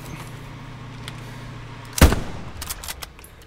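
A single loud gunshot in the World War II shooter Hell Let Loose, a sharp close crack followed by a few fainter distant shots over steady low background rumble.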